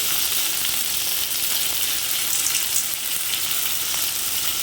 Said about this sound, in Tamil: தக்காளி நல்லா வதங்குது.